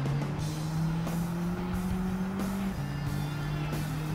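A car braking hard with tyres squealing in Gran Turismo 7, a sustained engine drone and skid tone running steadily throughout, no talking.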